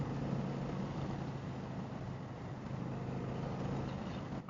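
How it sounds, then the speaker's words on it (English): A Honda Shadow Aero VT750 cruiser motorcycle's engine drones steadily while riding, a faint, muffled, continuous hum heard from under a helmet with wind rush. "I love the sound of this bike."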